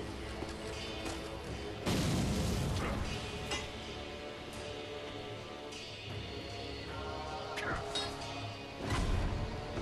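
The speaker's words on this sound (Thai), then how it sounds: "โหระเบิดติดตาม" Explosions from homing bombs in the video game Sekiro: Shadows Die Twice, with loud booming bursts around two seconds and near the end over a busy game soundscape of clatter and music.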